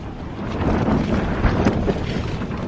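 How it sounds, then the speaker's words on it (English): Strong wind buffeting a wild camp high on Cribyn in the Brecon Beacons at dawn, a continuous roaring rush with gusty swells and microphone buffeting, loud and close. "the wind up here is horrendous"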